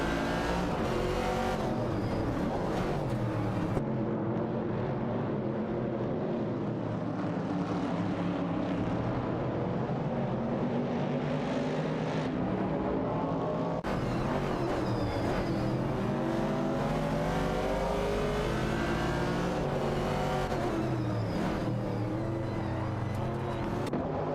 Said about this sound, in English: Racing car checkered flag.